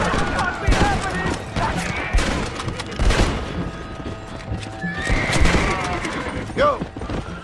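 Horse hooves gallop in a steady clip-clop beneath shouting in the Red Dead Redemption video game, with a loud whinny rising near the end over scattered gunfire-like booms.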